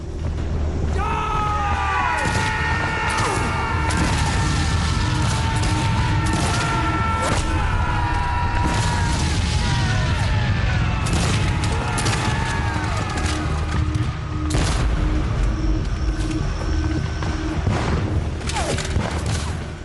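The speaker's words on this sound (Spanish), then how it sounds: "En una cerca que usan para protegerse reciben más de 800 disparos de rifle." Volleys of rifle and musket fire from a Gettysburg battle reenactment crackle in dense, overlapping bursts, with sharp reports repeating irregularly throughout and faint voices mixed in underneath.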